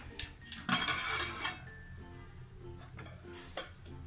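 A pressure cooker lid is opened after cooking mutton bones through four whistles, giving close metallic clanks and clinks of pot and lid with no talking.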